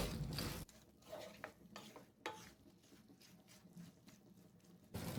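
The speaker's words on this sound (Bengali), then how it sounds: "গুড়টা মিশিয়ে নিচ্ছি।" A spoon stirs jaggery into guava pickle in a pan, giving soft scraping and light clinks at close range over a faint background, with louder bursts of noise at the start and end.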